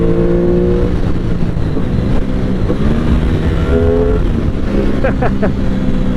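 An Aprilia Tuono 660 middleweight motorcycle rides a winding road, its loud engine note dropping and shifting as it downshifts into second, with a couple of quick rev blips near the end under rushing wind.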